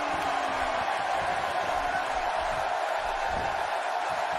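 A crowd cheers in the WWE 2K18 wrestling video game, a steady, dense roar that holds even across the whole stretch with no clear peaks.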